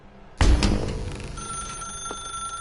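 An old-style telephone bell in The Stanley Parable video game starts abruptly and rings loudly, its clanging decaying into a sustained metallic ring with a steady high tone.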